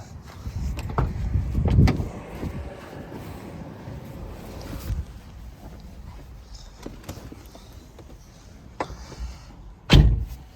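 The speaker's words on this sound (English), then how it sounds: "Doors sound pretty solid." A couple of solid thuds, one early and one near the end, as the doors of a 2010 Nissan GT-R shut, with wind and rustling handling noise in between.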